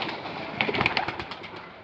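Pigeons kept as a hobby coo briefly nearby, a short burst of soft throaty calls over a light background hum.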